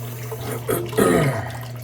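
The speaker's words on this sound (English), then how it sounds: "I am going to add a little more water into the sink because I lost some." Tap water runs into a bathroom sink while a shaving brush soaks nearby, a steady close gush that swells noticeably for a moment midway, with no talking.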